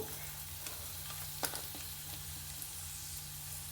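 Onion sizzling in a spoonful of hot oil in a pan, a faint, steady crackle with a couple of soft stirring clicks, heard alone with no voice.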